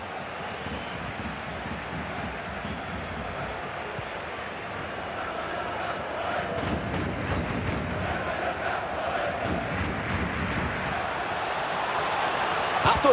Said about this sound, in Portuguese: A torcida se levanta,